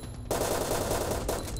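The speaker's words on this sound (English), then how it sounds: "Oh geez, there's some gunshots" Rapid bursts of automatic gunfire in a Minecraft DayZ game, loud and dense, with a brief gap before a second burst.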